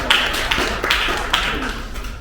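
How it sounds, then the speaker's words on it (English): At a cultural film festival screening night, a few sparse, distinct claps ring out close by, with only a handful of separate hits rather than a full round. "Let's give her a nice round of applause"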